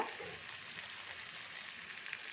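Tomatoes sautéing for chutney make a soft, even frying hiss that stays faint and steady throughout, with no voices.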